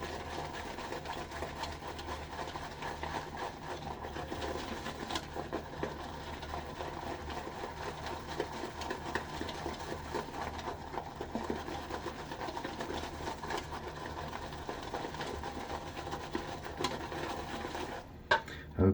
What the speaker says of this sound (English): Already we're getting a nice bit of lather.